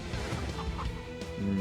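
Chicken clucking power-up effect from the video game Cthulhu Saves Christmas, a short burst of clucks over steady game music, ending in a sustained tone.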